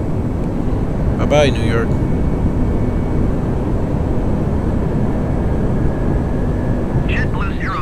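A JetBlue A320 taking off from New York in Microsoft Flight Simulator 2020, a steady loud engine roar held throughout, with voices speaking briefly over it.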